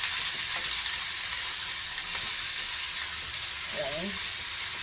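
Bean sprouts sautéing in a hot pan give a loud, steady sizzle and hiss throughout, with a brief voice speaking near the end.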